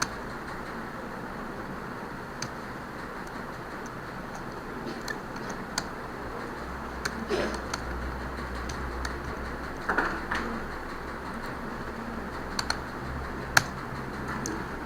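Typing on a computer keyboard, scattered key clicks and occasional sharper taps spread across a steady low hum, fairly close and unhurried.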